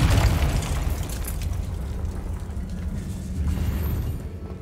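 A Confringo spell explosion bursts in the Hogwarts Legacy video game, a loud, dense boom with a sustained rumbling roar that stays heavy for several seconds.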